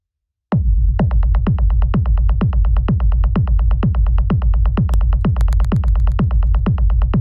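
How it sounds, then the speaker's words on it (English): Punchy 909-type techno kick drum thumps on a steady four-on-the-floor beat, deep and loud, with a short click on each hit and no talking. "we have the kick, which sounds like this."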